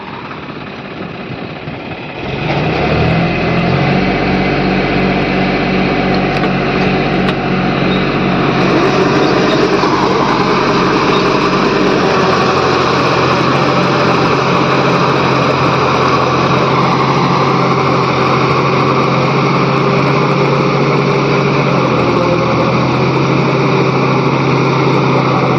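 A tractor engine starts up and runs steadily at close range while ploughing a paddy field, a loud continuous diesel drone with a strong low hum that holds for the rest of the clip, no voices.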